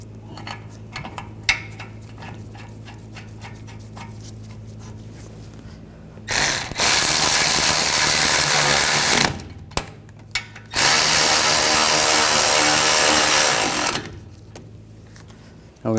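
Power ratchet or impact tool driving the brake caliper bracket bolts on a 2014-2018 GMC Sierra 1500 during a parking brake shoe job, in two long loud whirring bursts after quieter handling clatter.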